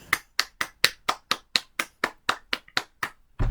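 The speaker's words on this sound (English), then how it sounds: "Round of applause," About a dozen sharp, evenly spaced claps from a small group at a film-review discussion, close and crisp, ending in a brief bump of noise.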